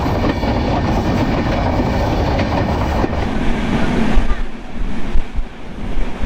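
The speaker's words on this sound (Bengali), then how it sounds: "আমাদের ট্রেন এখন ঘন্টায় 80 কিলোমিটার বেগে চলতেছে" Loud, steady rumble of the Ekota Express passenger train running at about 80 km/h between Dhaka and Panchagarh, with continuous rattling and clatter that roughens and swells toward the end.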